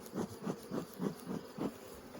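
Honeybees buzz steadily as a hive box is opened and checked, a close, continuous drone that swells in a slow pulsing rhythm, with no talking.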